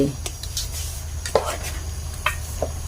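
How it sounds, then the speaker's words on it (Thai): Pieces of chicken drop into a boiling pot of soup with galangal, with soft splashes and clinks, a low simmering bubble underneath and a few scattered utensil taps. "น้ำเดือดกับพี่น้อง เอาไก่ลงเลยจ้า"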